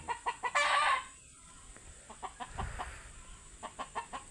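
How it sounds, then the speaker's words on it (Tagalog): Chickens cluck repeatedly in short rhythmic bursts, with one louder, drawn-out squawk near the start and steady background birds around them. "ingay ng manok"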